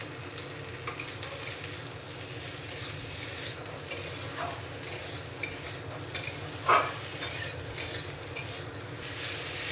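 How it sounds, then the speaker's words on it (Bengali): Bitter gourd and eggplant being stir-fried with spices in a pan, a steady low sizzle broken by scattered scraping and clinking strokes of a spatula, close by, with no voices. "মশলার সঙ্গে নাড়াচাড়া করে একটু কষিয়ে নেব।"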